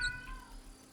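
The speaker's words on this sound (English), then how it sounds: "You might hear my cat" A pet cat lets out one short, sharp meow right at the start, then fades under a low hum.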